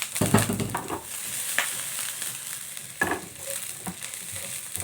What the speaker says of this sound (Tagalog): Gisahin muna natin yung sibuyas, bawang